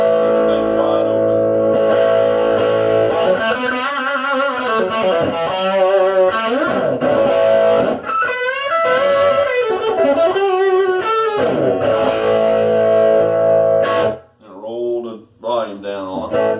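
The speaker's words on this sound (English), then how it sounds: "let's get a few overdrive tones. This is a bridge pickup." An overdriven 2018 Fender Mexican Player Telecaster on its bridge pickup with everything wide open plays gritty distorted chords and bending lead lines for a long stretch, then trails into a few sparser notes.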